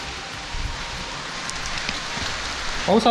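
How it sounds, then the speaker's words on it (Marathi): Rain falls steadily in a Kokan village at Nagaon, Mahad, a soft continuous patter on surfaces, with a brief voice right at the end. "पाऊस आला"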